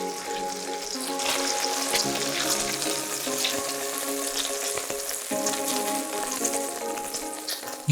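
Smoked bacon, about 200 grams, fries in a pan of beef stew base with a steady, continuous sizzle and crackle, close and fairly loud, with faint clinks over it.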